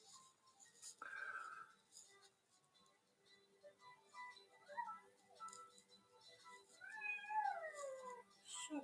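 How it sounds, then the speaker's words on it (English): A cat meows several times close by, one short early call and a longer falling, wavering meow near the end, with quiet gaps between and faint background sounds. "Shut up, cat."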